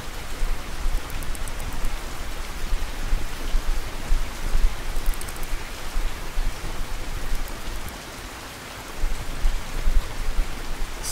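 Rain in the fishing video game Russian Fishing 4, a steady dense hiss of falling rain on water and surfaces, continuous and moderately loud with no voices.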